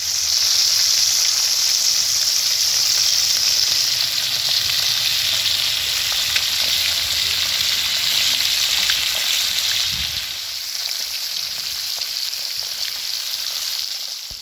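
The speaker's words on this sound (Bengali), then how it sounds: "এই যে দেখতে পাচ্ছ কড়ার মধ্যে তেল দিয়ে দিয়েছি, এবার গরম হলে তারপরে মাছগুলো একে একে দিয়ে দেবো।" Hot oil hisses and crackles in a karai where fish is frying, a steady close sizzle that softens slightly for the last few seconds.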